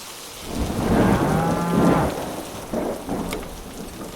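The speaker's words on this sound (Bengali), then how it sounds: "এই তো আবার বৃষ্টি পড়া শুরু হয়েছে" Rain begins in an animated village story, with a deep rolling rumble of thunder swelling and fading over a steady wash of falling rain, loud and close, with no voices.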